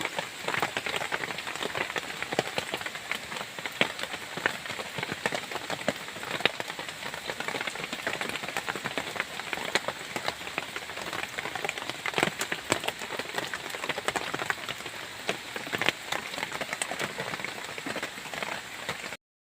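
Steady rain falls around the lodging during a day of mushroom picking, with a continuous, dense patter of drops on surfaces and no voices.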